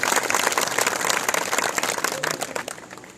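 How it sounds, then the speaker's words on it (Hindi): A crowd claps loudly to welcome JP Nadda at a farmers' gathering in Hanumangarh, the dense applause sustained and gradually thinning toward the end. "मैं चाहूंगा कि जेपी नड्डा साहब के लिए आप जोरदार तालियों से उनका"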